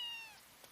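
A cat in an anime episode gives one short, faint, high meow that fades quickly, with no talk over it.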